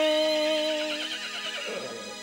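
A horse whinnies once, a bright quavering neigh that wavers and then trails off into a lower breathy snort, fairly faint and heard alone.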